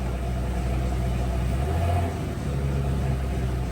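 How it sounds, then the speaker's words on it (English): An Audi Q7 V6 with a straight-pipe exhaust rumbles steadily nearby, its low engine drone rising slightly for a moment before settling, with no voices. "give it a rev, give it a rev, give it a rev"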